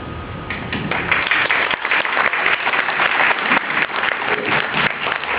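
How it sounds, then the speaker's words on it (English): An audience at a Q&A following a documentary screening claps steadily, a dense, continuous wash of applause that holds at an even, loud level throughout with no talk over it. "please, another round of applause for Ainsworth"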